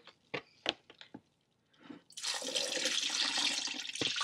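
Water from a wool wash pours out into a plugged sink in a steady, close splashing gush, preceded by a few soft wet squelches and taps.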